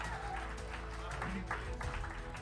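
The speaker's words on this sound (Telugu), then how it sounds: "గట్టిగా చప్పట్లు కొట్టాలి నిఖిల్కి." A hall audience at a staff awards night in Heaven's Culture claps for an honoree, brief, moderately quiet applause with a murmuring crowd underneath.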